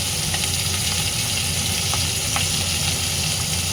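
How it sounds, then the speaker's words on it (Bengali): Hilsa fish pieces frying in a pan, giving a steady, loud, close sizzle that fills the whole stretch with no talking over it. "মাছগুলোকে আগে ভেজে দিই"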